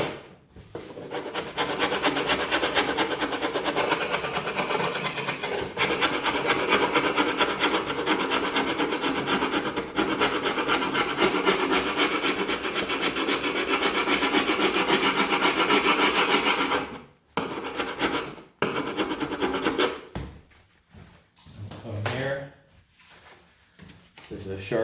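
A sharpening stone scrapes back and forth over felt residue on an old Steinway piano back rail, a long continuous rasp that stops abruptly near the end, followed by a few shorter rubbing strokes.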